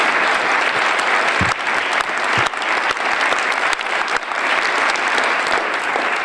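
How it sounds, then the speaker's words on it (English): Loud, sustained applause from an audience at a conservation voters' environmental summit, a thick wash of clapping holding steady for several seconds with brief dips. "So let's give Lori a round of applause."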